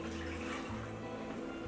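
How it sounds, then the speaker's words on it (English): Milk poured into a pot for polenta, a steady soft splashing stream that runs without pause, fairly quiet and close. "So I like to add 2 cups of milk"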